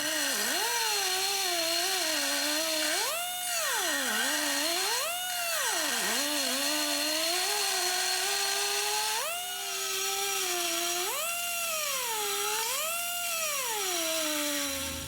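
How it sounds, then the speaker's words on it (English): A die grinder smooths the rough nibbled edges of a steel pipe, its high whine rising and falling repeatedly as the tool bites into the metal and eases off, close and loud for the whole stretch with no talk. "Now I'm going to take the die grinder to it"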